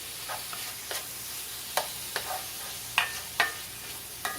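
Onions softening in a pan while a pork chop dish is made, a quiet steady sizzle with a handful of distinct spatula scrapes and clicks spaced about half a second apart, no talking.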